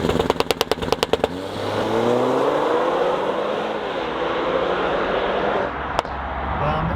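A Stage 3 Audi A4 running E85 with an aggressive catless tune, pulling an anti-lag launch-control rev: a rapid stutter of sharp pops at first, then a loud sustained high-rpm engine drone held steady, with one crisp crack near the end.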